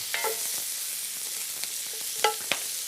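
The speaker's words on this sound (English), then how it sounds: "We'll just get them frying along." Leftover boiled potatoes frying in a pan, a constant bright sizzle with occasional sharp clinks and scrapes of stirring, no talking.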